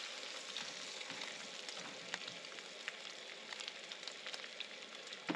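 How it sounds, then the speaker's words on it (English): A soft, steady sizzle of bacon frying at a forest campsite, with faint crackles and small pops throughout. "You smell the bacon, Olive?"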